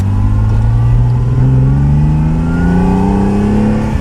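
1973 Ferrari Dino 246 GT engine in the Forza racing game, revving loud and close with a steadily rising pitch as the car accelerates through the gears, a continuous strong roar.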